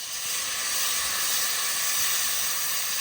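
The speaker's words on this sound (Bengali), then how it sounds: "হলুদ দিয়ে একটু নাড়াচাড়া দিয়ে নিলাম, এবার জল দিয়ে দেবো।" Water poured into a pan of potatoes frying with turmeric for a village-style Bengali fish curry, giving a loud, steady steamy hiss that holds evenly for the whole stretch.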